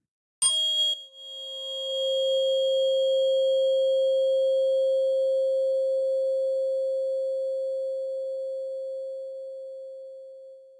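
A steady 528 Hz pure tone rings continuously and evenly for several seconds after a brief bright chime-like onset, clean and sustained with faint flickers, no voices.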